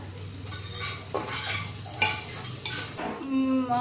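Continuous sizzle of frying in ghee with repeated scraping strokes of a spoon stirring in a pan, close up, ending with a brief tonal squeak.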